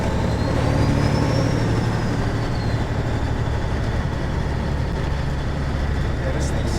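A 1981 Peterbilt 359 truck rolling down the road with a steady, loud diesel drone and constant road rumble from inside the cab, unchanging throughout.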